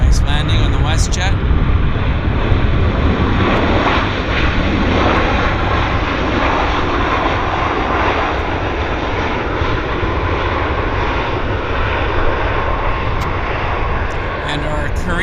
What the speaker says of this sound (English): Landing on the WestJet.